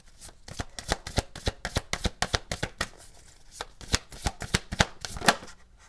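Affirmation cards shuffled by hand: a fast run of crisp riffling snaps and slaps, loud and close, with a brief lull midway before the flicking resumes, no voices.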